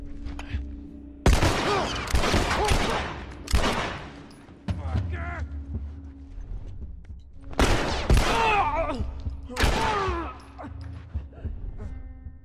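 Shotgun blasts from enemies in The Last of Us, booming in separate heavy bursts amid loud game combat, with someone talking over the action.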